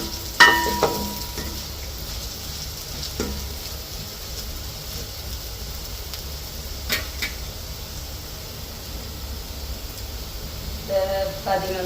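Fenugreek seeds frying in a pan give a faint, steady hiss with occasional utensil taps and scrapes, as a voice talks intermittently over the cooking.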